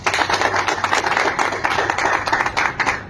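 An audience breaks into loud, dense applause, many hands clapping continuously and evenly throughout.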